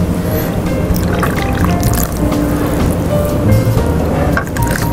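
Water is poured into a cooking pot of simmering coconut milk for a banana flower dish, giving a steady, close splashing and gurgling pour that runs throughout without a break.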